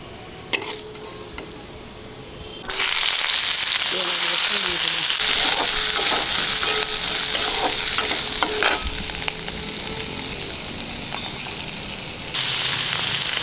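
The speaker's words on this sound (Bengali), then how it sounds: "একটু তেল দিয়ে দিলাম পাঁচফোড়ন দিয়ে দিলাম" Oil crackles and sizzles loudly in a pan as panch phoron spices hit it, a quiet start giving way to a sudden sustained frying hiss with some stirring clatter.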